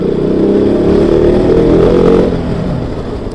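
A motorcycle engine runs loud and close, revving in a steady drone that builds slightly and then eases off toward the end.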